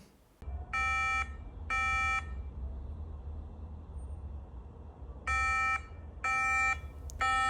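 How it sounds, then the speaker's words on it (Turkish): A MacBook Pro with a RAM fault gives two groups of three sharp electronic beeps, each beep a bright tone, separated by a pause, over a low steady fan hum. "Videoda izlediğiniz üzere tekrarlayan 3 bip arızamız var."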